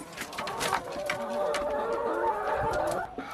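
Hens cluck and murmur in a steady chorus nearby, with some short higher calls mixed in and no one speaking.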